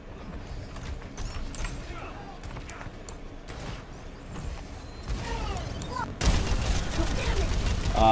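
D.Va's mech guns fire in Overwatch with a dense rattle of rapid shots, mixed with mechanical clanks and creaks. The battle grows louder and harsher toward the end.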